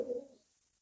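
A single soft, brief coo from pigeons kept in a loft, fairly faint and fading within half a second, with no talk over it.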